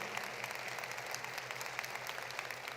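Graduation audience applauding students at a virtual school and grad academy ceremony, a steady, fairly faint wash of clapping with a low hum underneath and no voices.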